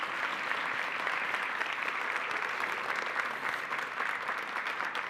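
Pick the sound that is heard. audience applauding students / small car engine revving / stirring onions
audience applauding students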